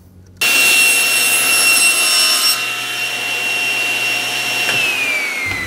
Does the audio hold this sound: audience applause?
no